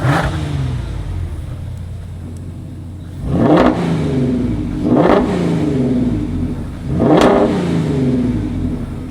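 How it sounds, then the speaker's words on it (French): A five-cylinder car engine revs up three times in bursts over a steady idle, each rev rising in pitch then falling back, close and loud. "il y a vraiment le son, ce grain sonore de ces moteurs à la con"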